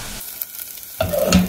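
Onions fry in a pan for homemade gluten-free vegan pizza, sizzling loudly up close after a brief quiet moment, with a stir in the pan.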